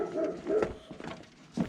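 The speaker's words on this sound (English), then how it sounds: "I'm sorry if you will hear some barking throughout this video" A dog gives a few short, faint barks and yips, somewhat distant and irregularly spaced, with a small whimpering call near the end.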